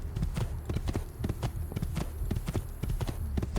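A horse's hooves galloping in Assassin's Creed II, a brisk, steady clip-clop of repeated strikes keeping an even rhythm throughout, close and clear with no other sounds.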